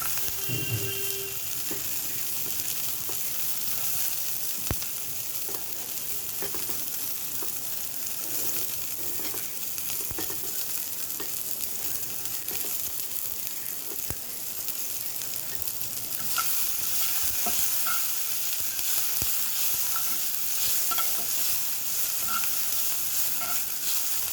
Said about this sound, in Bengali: পেঁয়াজটা একটু ভাজা হয়ে এসছে এবার দেবো একটু রসুন কুচি